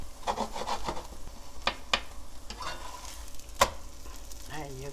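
A mung bean pancake with cooked meat fries in a pan, giving a moderate sizzle broken by sharp scraping clicks and taps of a utensil, with a short voice-like tone near the end.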